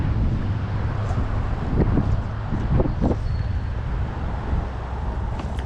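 Wind gusts across the microphone during fly fishing, a steady blustery rush with some low rumble and a few brief knocks and splashes.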